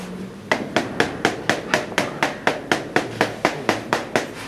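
A solid cheese wheel in a cheese dairy is tapped with a small hammer, giving a steady run of about fifteen sharp, evenly spaced knocks, close and clear, with no talking.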